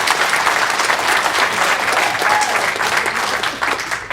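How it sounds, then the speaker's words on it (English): Steady, dense applause from an opening-ceremony audience at a fan convention, loud and continuous throughout before easing slightly at the very end, with no talk over it. "let's give a quick round of applause to the inner core as well, folks"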